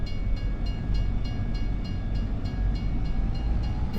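Train at a railway station in a video game, a loud steady rumble of wheels and rolling stock with faint rhythmic clicks, heard alone throughout.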